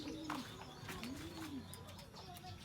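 Racing pigeons coo repeatedly on arrival during a homing training flight, soft rolling coos rising and falling in a loose rhythm over steady background ambience, with a few faint chirps mixed in.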